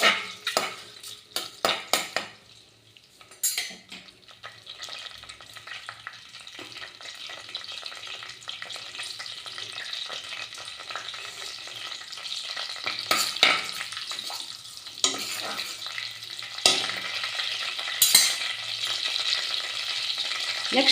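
Whole cinnamon, cloves and cumin frying in hot oil for mint pulao, a steady close sizzle with scattered clinks and scrapes of a spoon stirring in the pan, no voices.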